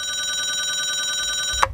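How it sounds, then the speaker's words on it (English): A steady telephone-style bell ring plays from a Roland SP-404 MK2 sampler, a continuous bright trill that runs without a break before a brief knock at the end, with no voices. "Got a nice little ring there."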